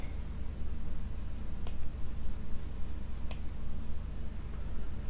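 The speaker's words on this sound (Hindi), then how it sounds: "इसके अलावा मैं यहां पे लिख भी देता हूं" Handwriting during a statistics lecture on the arithmetic mean, a steady scratchy stroking of pen or marker that runs continuously for several seconds at close range, with a couple of sharp taps and no speech over it.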